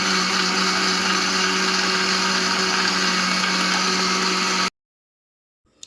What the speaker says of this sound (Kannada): ಈಗ ಸ್ವಲ್ಪ ನೀರು ಹಾಕಿ ಚಟ್ನಿ ರುಬ್ಕೊಳ್ತೀನಿ.